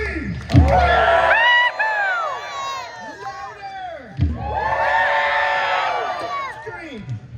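An audience at a luau show at the Wailea Beach Marriott in Maui erupts in two loud bursts of screaming and cheering, each swelling then fading, with high children's shrieks mixed in.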